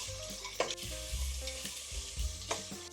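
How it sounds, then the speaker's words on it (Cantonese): Shrimp heads and shells stir-fry in a little oil in a wok, a steady close sizzle broken by repeated scraping stirs and clattering tosses, with no voices. "然後我哋攞個鑊落少少油，放晒啲蝦頭蝦殼落去爆香佢"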